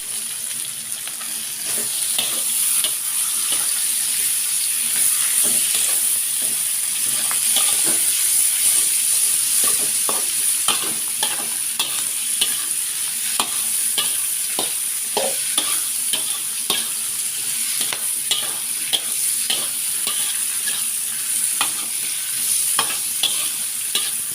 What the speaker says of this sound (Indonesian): Masukkan sayuran, kol, dan sawi hijau, lalu aduk kembali.